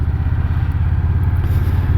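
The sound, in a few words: Indian Scout Bobber Twenty motorcycle riding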